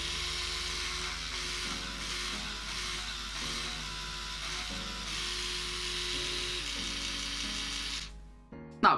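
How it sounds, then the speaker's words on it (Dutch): An Oral-B PRO 2000S electric toothbrush runs with a steady, loud buzzing hum for about eight seconds, then cuts off abruptly, followed by a brief clatter. "Hij maakt best wel wat herrie en hij maakt zelfs meer herrie als mijn eigen tandenborstel"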